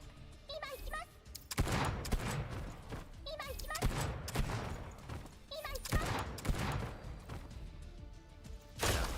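Shooter game gunfire from GFL 2, with repeated heavy bursts of shots and impacts in a steady, dense rhythm. A person speaks between the volleys.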